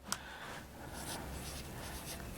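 Soft scratching of a pen or marker writing a physics expression by hand, faint and continuous, with one small tap at the start and no talking.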